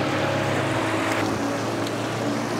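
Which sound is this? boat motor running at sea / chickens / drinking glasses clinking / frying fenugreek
boat motor running at sea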